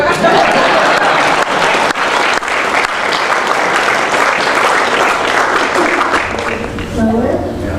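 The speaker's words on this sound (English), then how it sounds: "You can applaud if you want." Audience applause at an astronomy society general assembly in Halifax, loud sustained clapping from a large crowd, with voices mixed in beneath it.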